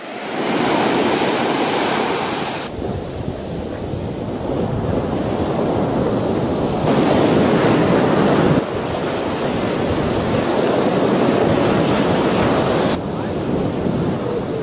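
Ocean waves crash and roar without pause at a beach in Puerto Vallarta, Mexico, loud and close, mixed with heavy wind buffeting the microphone; the surge swells and eases in broad waves.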